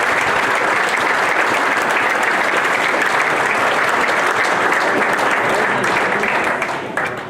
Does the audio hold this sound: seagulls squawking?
no